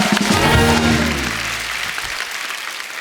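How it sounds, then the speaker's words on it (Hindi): A studio audience applauds Kangana, a dense burst of clapping and cheering that peaks early and fades over three seconds. "जोरदार तालियां कंगना के लिए"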